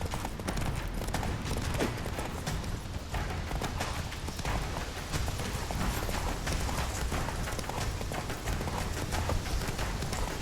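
Roach the horse galloping in The Witcher 3, a fast, steady clip-clop of hooves that stays loud and continuous throughout, with a busy game soundscape underneath.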